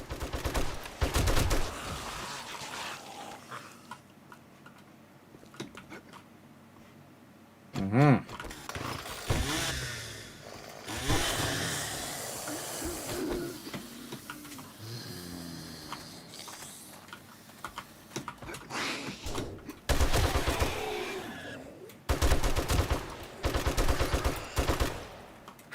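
Gunfire in the survival game 7 Days to Die, with shotgun and AK shots in repeated bursts and volleys, loud and close, separated by brief lulls, with voices talking between the shots.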